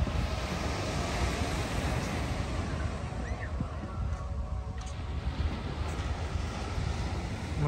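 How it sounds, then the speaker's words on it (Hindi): Night sea waves at Umbrella Beach in Fujairah roll in as a steady, continuous surf wash with wind noise over the microphone, fairly loud and close, with no clear talking. "मुझे जब ये लहरें हैं ज़्यादा जोर शोर से आती हैं मुझे तब ज़्यादा अच्छा लगता है।"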